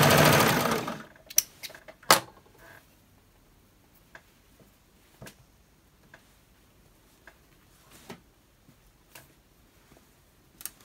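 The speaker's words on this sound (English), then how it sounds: "I'm using overlock, but you can always use a zigzag" Overlock sewing machine stitching a swimsuit crotch seam, a brief whirring burst at the start, then scattered clicks and ticks of the machine and handling at irregular intervals, close and fairly quiet.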